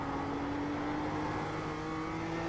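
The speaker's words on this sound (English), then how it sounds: "that's when we start building back up on the gas" BMW M2 CS on the Tsukuba circuit in iRacing, engine note climbing steadily in pitch under acceleration, a continuous buzzing drone with no talk.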